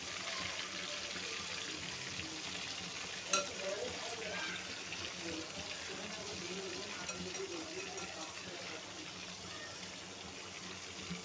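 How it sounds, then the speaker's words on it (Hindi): Chicken pieces frying in a karahi over a medium-to-low flame, a soft continuous sizzle with a brief clink of a utensil, heard fairly quietly throughout. "मीडियम टू लो फ्लेम के ऊपर हमें इसको फ्राई करना है।"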